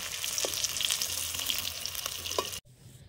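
Egg and cabbage dhokla frying in oil make a dense, continuous sizzle with a couple of soft clinks. The sizzle cuts off abruptly near the end, leaving only faint room noise.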